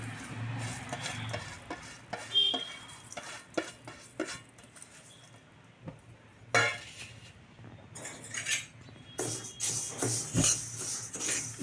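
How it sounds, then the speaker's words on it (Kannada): Flax seeds roasting in a pan, stirred with a utensil that scrapes and clinks against the metal in irregular bursts, fairly faint and close, with no talking. "ಒಂದು ಬಾಣಲೆ ಇಡಬೇಕು, ಅಗಸೆ ಬೀಜನ ಹಾಕಬೇಕು"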